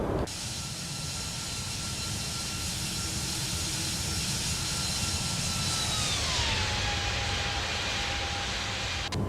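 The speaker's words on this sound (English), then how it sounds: "Here's a flyby." A Toliss A320neo jet in X-Plane 12 roars past after takeoff, a loud continuous engine rush with a high whine that sweeps downward in pitch as it passes, no talk.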